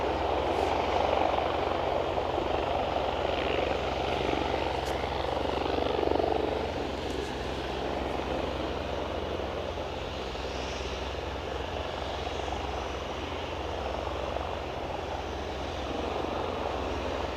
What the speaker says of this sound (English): I can hear another helicopter on the main aerodrome.